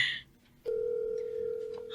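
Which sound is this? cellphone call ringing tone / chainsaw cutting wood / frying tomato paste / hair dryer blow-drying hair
cellphone call ringing tone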